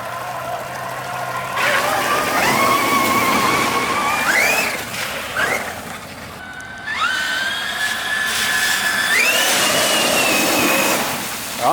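A Traxxas RC truck runs at speed, its electric motor whining and rising in pitch as it surges ahead and splashes through a puddle, then dips and surges again. The sound is close and fairly loud, with no talk.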